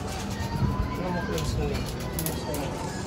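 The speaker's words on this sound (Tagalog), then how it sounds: "Ayun na yung mga ibon natin." Pigeons cooing in a breeder loft, soft low coos repeating under steady background noise and a nearby voice talking.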